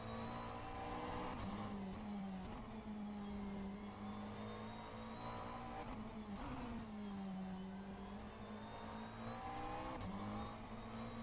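McLaren GT3 race car engine in a sim racing game at an endurance race in Korea, a steady whining engine drone with pitch dips and rises as the car shifts through corners, fairly quiet and continuous.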